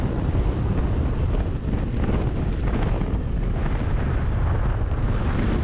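A vehicle ploughs through a patch of water on the Birdsville desert track, a loud continuous rush of splashing and engine roar buffeted by heavy wind against the microphone.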